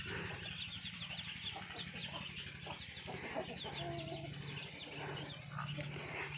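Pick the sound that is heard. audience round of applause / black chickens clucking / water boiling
black chickens clucking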